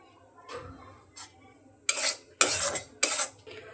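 Lentils dry-frying with salt and turmeric for dal puri filling are stirred in a pan, giving separate scraping strokes of a metal spoon, faint at first and then louder and rougher.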